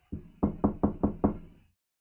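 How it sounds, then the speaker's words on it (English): Knocking on a door: six firm raps, a lone first knock followed by a quick steady run of five, close and clear with no voices. "then you hear that knock on your door."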